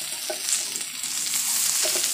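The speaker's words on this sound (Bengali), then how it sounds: "চিচিঙ্গাটা আমি দিয়ে দিচ্ছি।" Chopped snake gourd added to a hot pan, giving a steady soft sizzle and frying hiss with light stirring clatter, fairly quiet and close, with no talk.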